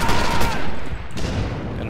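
Dense, sustained gunfire from the video game Rising Storm (Red Orchestra 2), with overlapping shots forming a loud, continuous barrage close by for the whole stretch and no clear gaps between reports.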